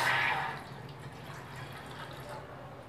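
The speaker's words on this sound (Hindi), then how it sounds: "अब इसमें डालूंगी आधा कप पानी।" Half a cup of water poured into a cooking pot on a gas stove, a brief splashing pour at the start fading into low steady background hum.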